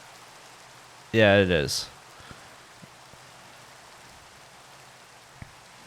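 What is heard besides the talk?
rain falling in GregTech: New Horizons Minecraft modpack video game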